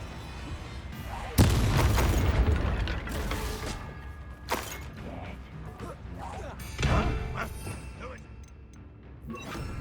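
Confringo spell explosions in the Hogwarts Legacy video game: a few booming fiery blasts spaced several seconds apart, loud bursts amid clanking, creaking game sounds and a voice speaking.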